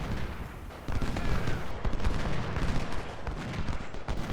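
10-pounder artillery pieces fire in the Civil War game Ultimate General, a dense stream of overlapping booms and crackling shots rolling on without a break for several seconds.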